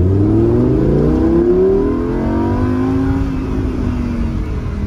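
A Lamborghini Huracan accelerates hard through its long gears, the engine note climbing in a loud, close sweep, shifting quickly and continuing upward.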